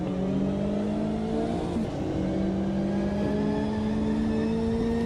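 Race cars lapping Mount Panorama at Bathurst in the Can-Am SimSport racing game, with steady loud engine drone and rising, shifting engine tones as cars accelerate, heard alone without voices.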